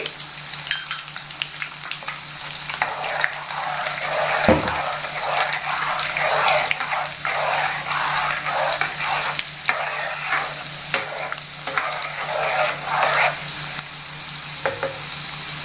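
Chana dal, urad dal, cumin and dried red chillies sizzle in hot oil for a raw mango and tomato pickle, with busy close stirring and clatter against the pan over a continuous crackle, no talking.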